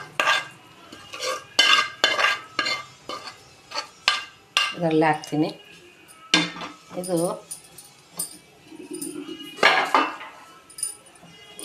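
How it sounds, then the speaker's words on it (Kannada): A spoon stirs green chicken gravy masala in a metal pan, giving repeated scraping and clinking strokes with faint frying beneath, while a person talks over most of it. "ಇದನ್ನು ಚೆನ್ನಾಗಿ ಮಿಕ್ಸ್ ಮಾಡಬೇಕು"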